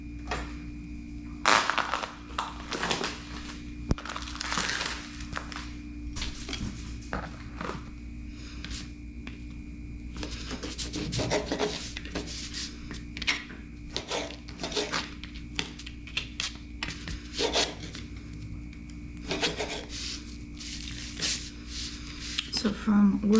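Beef fat is trimmed into small pieces for rendering tallow, with irregular knife cuts, soft squishy slicing and occasional clinks on a board, heard under a person talking.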